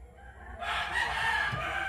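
A rooster crows outdoors on a rural farm in the Philippines. A loud, bright, sustained crow begins partway through over steady low background noise.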